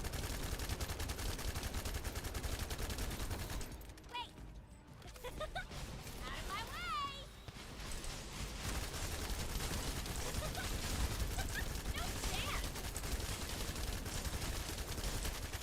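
Gunfire rattles in The First Descendant video game on hard mode, dense rapid shots running almost continuously, dropping briefly in the middle before resuming at full intensity, with a voice talking underneath.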